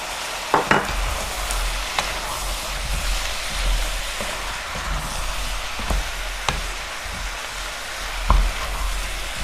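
Chicken with curry seasoning sizzling steadily in a pan, a constant frying hiss broken by occasional sharp stirring knocks from a utensil.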